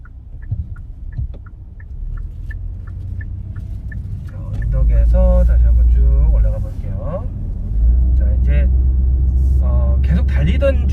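A Hyundai Casper light car's small engine hums at idle, then swells into a louder low drone as it pulls away from a stop, drops back briefly, and rises again, with someone talking over it throughout.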